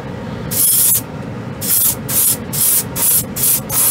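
A Harder & Steenbeck Colani airbrush sprays paint in a run of short, loud hissing bursts, one long pull followed by about six quick rhythmic ones, heard up close with no talking.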